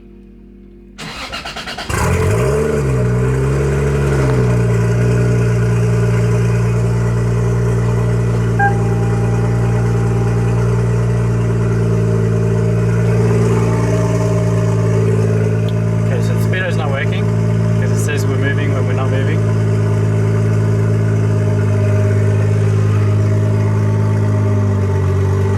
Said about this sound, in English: it's time to start it up, put it in gear and see if the wheels move. This may be a little loud because the exhaust still isn't on